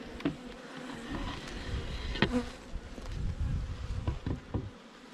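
Honey bees buzzing steadily around an open hive during an inspection, a dense faint hum with individual bees passing close by now and then, no voices.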